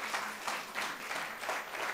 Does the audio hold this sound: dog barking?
no